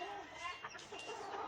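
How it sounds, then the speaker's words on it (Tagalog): Bantam chicken clucking softly over a dense, continuous background of bird noise, low and fairly distant, with no speech. "Ayan, share ko lang sa inyo kung anong meron kaming manok. Bantam."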